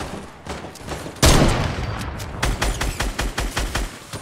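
Gunfire in the Fortnite video game: a loud blast is followed by rapid bursts of repeated shots in a quick, rhythmic sequence, close and punchy.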